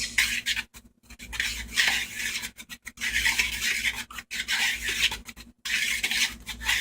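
A spoon scrapes and clinks around a bowl while sugar, baking powder and salt are mixed for strawberry shortcakes, in a steady rhythm of scraping strokes broken by brief pauses.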